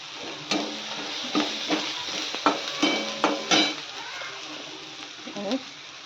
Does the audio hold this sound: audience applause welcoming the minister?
no